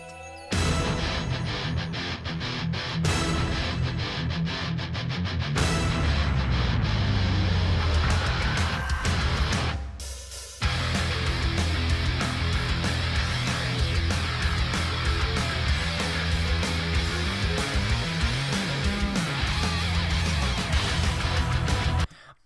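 A symphonic metal song plays loud and dense throughout, with full band and orchestral layers, a brief drop near the middle before it crashes back in at full power.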